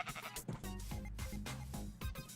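Sheep bleating in the Minecraft video game, several loud, close, wavering bleats overlapping one another in quick succession.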